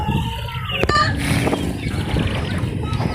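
A red hen among gamecocks gives short, clucking calls up close, broken by a sharp click and some handling noise, over a steady background.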